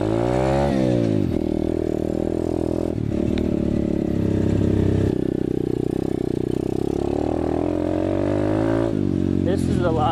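An Apollo 125cc dirt bike engine drones steadily on a trail ride, loud and close, with pitch rising as the throttle is worked at the start and again near the end, a voice talking over it.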